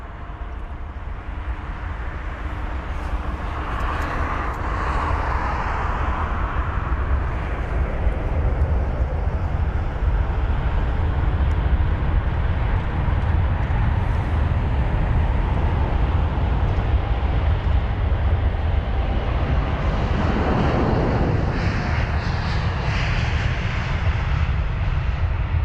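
A four-year-old Boeing 787 jet airliner departing Heathrow gives off a steady, loud engine roar that swells and then fades, with a broad rumble and no talk over it.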